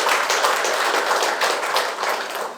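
A crowd applauding at an outdoor campaign speech by a local council candidate, a dense, steady wash of many hands clapping close by for a few seconds before tapering slightly.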